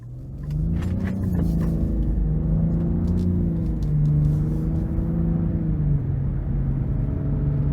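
A 2023 Nissan Rogue Platinum with a VC Turbo engine on a test drive: a steady, loud low rumble of engine and road noise from inside the cabin, with a faint rise as it accelerates and no talking.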